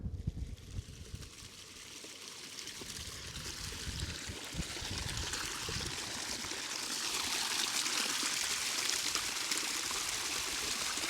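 Continuous outdoor stream water flowing and trickling, steady and fairly close, with a broad rushing hiss that swells slightly louder toward the end and no talk over it.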